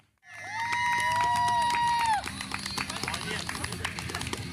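A crowd at the finish line of a road race cheers and claps for arriving runners, including wheelchair participants. A loud whistle-like shout opens over steady clapping and babble, and voices talk throughout.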